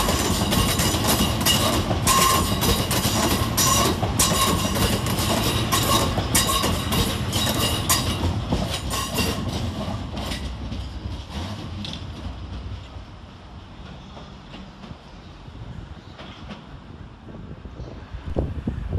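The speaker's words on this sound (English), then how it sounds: "we see the departure of 377-618 and 377-609, working the 1802 Southern Railway service from London Victoria to Dorking" Class 377 Southern Railway electric trains, a pair of units on the Victoria to Dorking service, pull out of Clapham Junction station, a loud rumbling, clattering departure that steadily fades into the distance with some wind noise.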